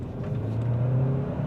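A Kia Seltos with a 7-speed DSG gearbox accelerating at full throttle, a loud, steady engine drone with a rising hum, close and continuous with no talk.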